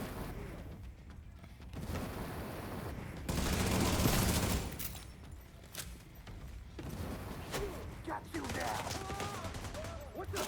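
Video game gunfire, bursts of rapid shooting and volleys coming in waves with louder clusters midway, mixed with battle effects and occasional electronic tones, fairly close and busy throughout.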